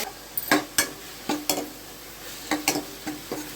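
A spatula stirs and scrapes through ingredients sautéing in a pan for ennai kathirikai kuzhambu, an eggplant curry, with sharp intermittent strokes over a faint background sizzle.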